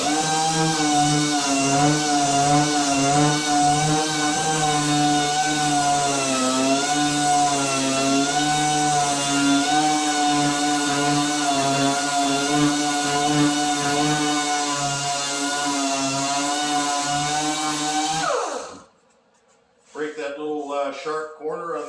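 Power sander smoothing a paint-grade cabinet door, knocking down raised grain fuzz; a steady, loud whirring drone with a constant motor tone runs without a break, then cuts out near the end, leaving a brief silence before handling noise resumes.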